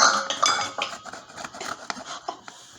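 Zucchini bread or food being put into a bowl in a home kitchen, with close, bright clinks and scrapes of a utensil against dishes in an irregular run of short taps.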